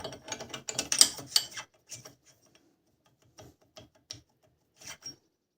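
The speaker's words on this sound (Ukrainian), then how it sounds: "Гайку цю викрутити треба." A hand ratchet removing a nut on a Carmax press, with a burst of quick close clicking and rasping, then sparse short clicks with gaps of quiet.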